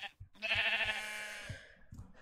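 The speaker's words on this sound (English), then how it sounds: "need some more sheep" A sheep bleats once in Minecraft, a loud wavering call lasting about a second, with faint soft thumps around it.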